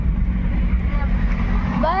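A motorboat engine runs at sea on a crossing near Bet Dwarka. A close, steady low drone holds throughout, with a faint rising whine near the end.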